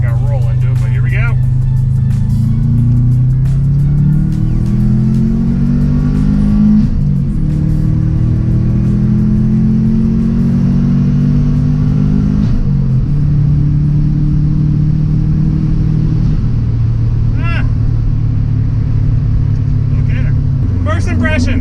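A 2002 Subaru WRX fitted with a Perrin short ram intake accelerates under boost from about 3,000 RPM, its loud engine note climbing through several gear pulls, heard from inside the car while the driver talks.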